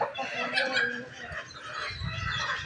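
Several chickens cluck and chatter close by in a busy, continuous flurry of short calls.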